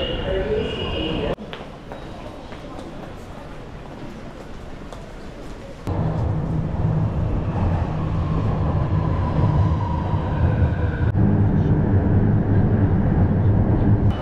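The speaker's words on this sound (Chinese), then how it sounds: "坐成都的地鐵2號線" A Chengdu Metro Line 2 subway train carries riders along with a steady low rumble and rolling rail noise that swells louder partway through, overlaid with scattered voices in the carriage.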